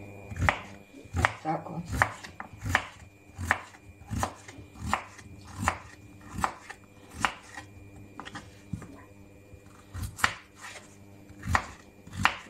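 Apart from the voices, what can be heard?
knife chopping potatoes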